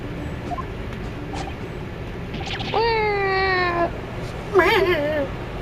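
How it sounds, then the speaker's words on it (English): Two cat meows in a courtroom game scene, a long steady one followed by a shorter, wavering one, both fairly close and clear over a faint background hum. "Just start meowing."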